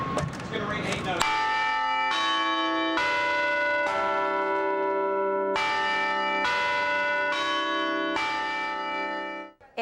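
A campus bell tower rings out at the University of Carolina, with about eight resonant bell strikes at a steady, stately pace. Each clear metallic tone rings on and overlaps the next, heard from a moderate distance.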